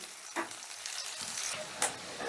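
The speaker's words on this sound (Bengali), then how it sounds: "এবারে এই পেঁয়াজটাও হালকা করে ভেজে নেব অতিরিক্ত ভাজবো না হালকা করে ভেজে নেব" Chopped onion frying lightly in a pan, a steady soft sizzle with a couple of brief stirring scrapes, close and alone without talk.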